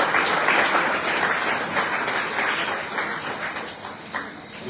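A crowd at the team presentation for the 2024 Tour de Guadeloupe cycling race applauds in a thick, continuous wash of clapping that holds steady for several seconds before easing slightly.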